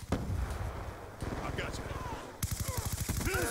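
Rapid automatic weapon fire in Black Ops 2, short bursts of evenly spaced shots repeating close and loud, with a voice talking over the gunfire throughout.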